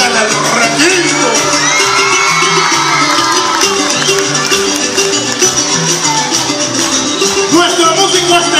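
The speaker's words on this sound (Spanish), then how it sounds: "fuerte el aplauso para Emiliano en el bosque" Festival crowd at a concert cheering, whooping and clapping loudly and continuously, with shouts rising over a thick wash of noise from a large audience.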